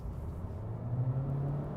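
A 2023 Honda Civic and Honda Accord, each with a 1.5-liter turbo four-cylinder, accelerate side by side. The engine comes through as a low, steady drone, quiet and muffled as if heard from inside the cabin.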